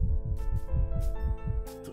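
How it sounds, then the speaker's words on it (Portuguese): A low, thumping heartbeat pulses steadily and loudly in a Minecraft Slenderman game mod, layered over an eerie droning tone with occasional airy noise bursts. "Eu tô ouvindo batimento cardíaco."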